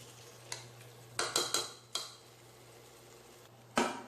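A spoon stirs tomato and onion masala in a pot for mutton biryani, with a few sharp metal scrapes and clinks against the pot over a low steady background hum, and no voices.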